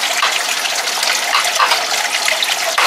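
Water from a hose gushes steadily to flush a Mercury outboard motor, a broad continuous hiss and splash up close with no talk.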